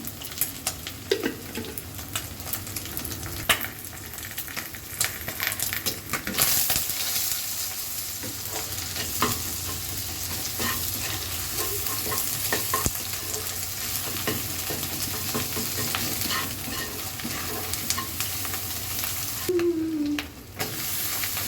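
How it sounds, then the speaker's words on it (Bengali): Chicken and ridge gourd with a little turmeric frying in a pan, a steady close sizzle and hiss with the scrape and clack of a spoon stirring throughout. "এখন জাস্ট একটু নেড়ে মিশিয়ে রান্নাটা করে নিব"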